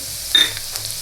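Garlic paste hits hot oil seasoned with asafoetida and turmeric, giving a brief sharp sizzle burst that quickly settles into a faint hiss.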